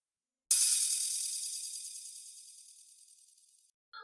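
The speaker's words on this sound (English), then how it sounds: "Nice and simple and spacey delay that sounds like a crash." A bright, washy crash-like burst made from a spacey delay effect in Ableton starts abruptly and decays slowly over about three seconds, trailing shimmering delay repeats, then cuts off.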